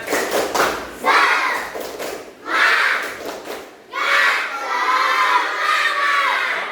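A classroom of children doing a spirit clap and chant, with loud close bursts of rhythmic group shouting separated by short pauses and a longer sustained chant at the end.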